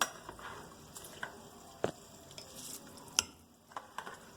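Rice poured into a pot of boiling water, a soft bubbling and stirring bed with a few sharp clinks and splashes as grains go in, close and quiet with no talking.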